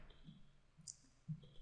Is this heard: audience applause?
no